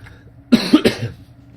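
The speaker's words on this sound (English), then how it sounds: "excuse the coughing, I do have a bit of a cold." A few short, harsh coughs from a person with a cold, in a quick cluster, close and fairly loud, then quiet.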